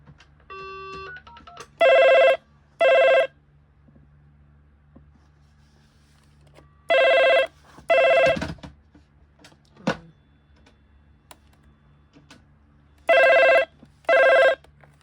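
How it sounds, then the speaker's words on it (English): The bell of a British Telecom Loudspeaking Telephone 12A/1 (Inphone) rings in paired bursts, three double rings spaced several seconds apart, with faint clicks and a low hum between them. "Now let's just ring it."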